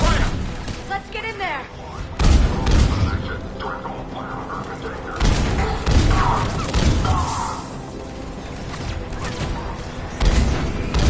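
Gunfire and heavy impacts in a Mass Effect 3 battle at a checkpoint, with repeated loud bursts and thuds over a dense combat din while voices talk throughout.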